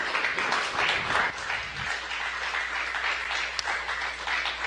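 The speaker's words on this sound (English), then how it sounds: "May be able to hear some clapping here in the room in Mission Control." Team members in NASA Mission Control clap after the Boeing Starliner OFT-2 de-orbit and landing, a modest patter of applause in a room, with some voices underneath.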